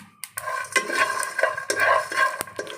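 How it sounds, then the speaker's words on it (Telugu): Peanuts, sesame seeds, dry coconut, cardamom, cinnamon and cloves are stirred around a hot pan, giving a soft dry rattle and scrape with faint sizzling, plus a few sharp clicks of a spoon on metal, close up. "నువ్వులు, పల్లీలు, ఎండు కొబ్బరి, ఇలాచి, చెక్క, లవంగా జస్ట్ ఇలా ఫ్రై చేసుకోవాలి కొంచెం"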